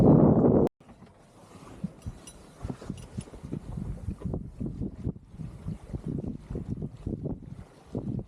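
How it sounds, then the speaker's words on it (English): A sailboat under full sail on the English south coast near Portland Bill, with a steady rush of wind across the microphone and irregular water slaps against the hull after a loud burst at the start. "So, back under full sail again now."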